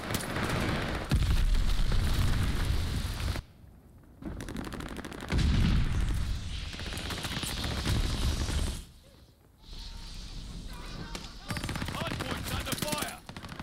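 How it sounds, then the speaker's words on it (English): Glide bomb blasts and heavy gunfire in a Call of Duty: Vanguard multiplayer match, loud booming explosions and rattling bursts filling most of the time, broken by brief lulls, with in-game voice callouts over the action. "Enemy glide bomb incoming."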